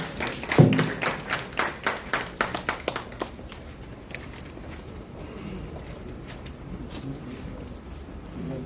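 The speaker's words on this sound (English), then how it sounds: "A round of applause for him" Audience at a Sanofi Ghana and Ministry of Health diabetes programme launch giving a speaker a round of applause, about a dozen loud, evenly spaced claps over three seconds, then fading into quiet hall noise.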